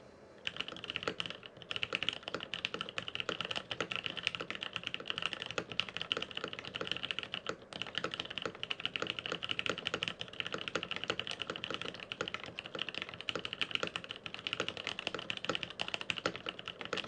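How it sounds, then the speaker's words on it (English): Steady, rapid typing on a Sirius 60 mechanical keyboard with Butter Cream switches in a palm top mount housing with DSA Alchemy keycaps, deep thocky keystrokes continuing unbroken at close range with no talking. "Here, one last typing test just to demonstrate it."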